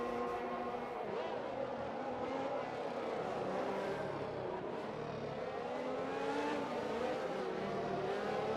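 F1 race cars roar through the final lap of a multiplayer league race in a video game, a continuous loud blend of engines that rise and fall in pitch as they rev and pass.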